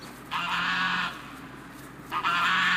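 Geese give two drawn-out, nasal honks, each about a second long and separated by a brief pause, heard fairly close against a quiet background.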